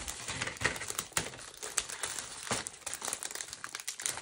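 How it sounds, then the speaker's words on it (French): Paper crinkling and rustling while craft dies are unpacked, an irregular series of close crackles and rustles. "un petit bruit de papier."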